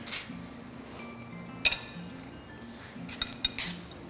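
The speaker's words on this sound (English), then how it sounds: "we're going to add our diced cucumber." Diced cucumber being added to a strawberry avocado dip in a bowl, with a few light clinks of a utensil against the dish and soft scraping over quiet kitchen background noise.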